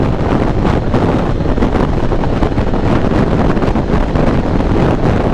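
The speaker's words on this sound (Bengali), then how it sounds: "যে বাতাসটা লাগতেছে খুবই ভালো লাগতেছে" Wind blowing on a boat in cool late-winter weather: a loud, unbroken low roar of air buffeting the microphone, with no voices.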